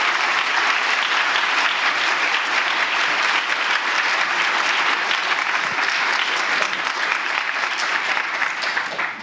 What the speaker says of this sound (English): let's give her like the mid applause